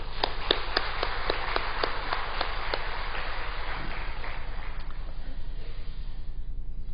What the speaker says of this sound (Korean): 어버이날 축하합니다 하는 뜻으로 또 박수 한번 드리겠습니다